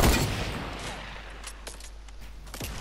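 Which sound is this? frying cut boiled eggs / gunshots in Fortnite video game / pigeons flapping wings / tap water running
gunshots in Fortnite video game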